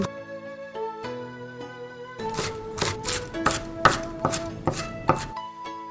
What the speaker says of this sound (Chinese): 我们先把高丽菜切成丝儿，不用切得特别细。